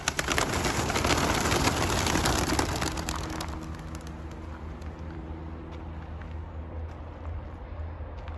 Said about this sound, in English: Okay, guys, we want to release the birds.